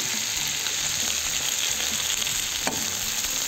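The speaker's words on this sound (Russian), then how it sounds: "как видим, морковь с луком обжарились. Загружаем перец." Bell pepper, carrot and onion fry in a kazan over a campfire, producing a steady close sizzle with faint stirring clinks and no voices.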